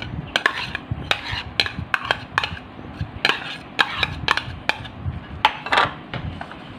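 Homemade siomai filling ingredients are mixed in a bowl, with a spoon clinking and scraping against the sides in a steady, irregular rhythm, close and clear with no talking.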